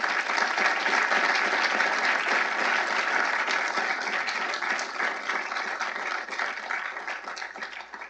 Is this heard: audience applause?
yes